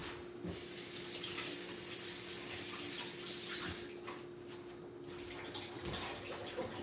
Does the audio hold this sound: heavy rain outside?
no